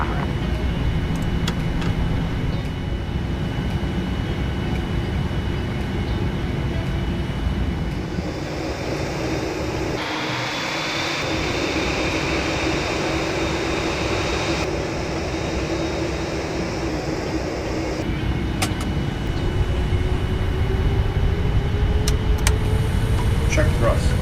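Airliner engine roar building steadily during a takeoff roll of a Boeing 787-8 Dreamliner in the Prepar3D flight simulator, a continuous loud broadband rumble with rising whine over about twenty seconds, with brief voice talk over it.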